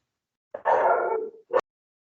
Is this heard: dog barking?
yes